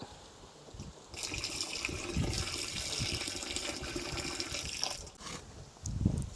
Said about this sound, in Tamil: வெட்டி வச்ச இளநீர் தண்ணீருங்க